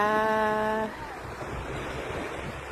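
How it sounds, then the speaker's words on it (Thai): Sea waves wash steadily onto a crowded beach, a soft continuous surf with wind noise following a brief tonal sound at the start. "มาเที่ยวทะเลกันค่ะ"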